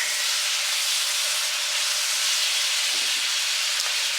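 In a new cast iron wok, food sizzles with a loud, continuous hiss that stays steady from start to finish, close by and without any talking.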